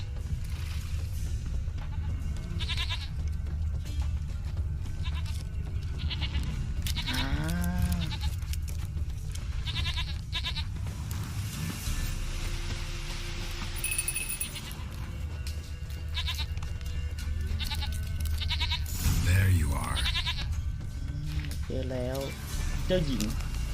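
Goat bleating in the video game The Witcher 3: Wild Hunt, short rising calls repeating a few times at mid distance over game music and ambience, with people talking throughout.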